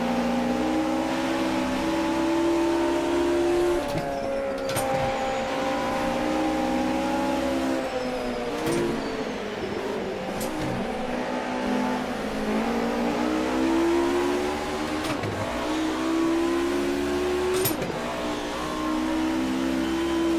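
Onboard engine of a Mercedes Group A race car in Automobilista 2 at Donington Park, a loud steady drone rising and falling through gear changes, with brief shift cuts and occasional tyre squeal, no talking.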